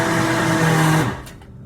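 A blender whirs loudly through vegan menudo ingredients, a close steady motor whine that spins down and stops after about a second.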